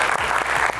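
Studio audience applause during an Azerbaijani comedy stage show, dense and steady clapping throughout the short moment, close and fairly loud.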